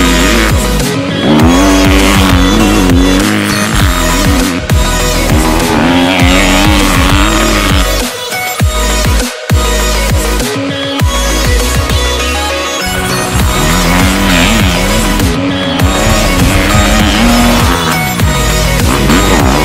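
A 2018 Kawasaki KX250F dirt bike being ridden, its engine screaming loud and continuous with rising and falling revs through gear changes and brief throttle chops, heard close throughout.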